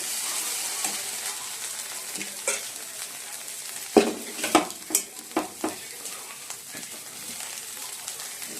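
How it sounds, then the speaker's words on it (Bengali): Rice is stirred and fried with egg in a pan over a steady sizzle, with a quick run of five or six distinct scraping strokes partway through, close and moderately loud. "বললো ডিমটা ভাজা হয়ে গেছে, ভাতগুলো দিয়ে দেবো।"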